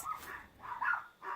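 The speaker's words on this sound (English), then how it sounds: "Our doggies are in there barking." Small dogs bark in short, muffled bursts from inside a closed bedroom, about three yips heard from a room away.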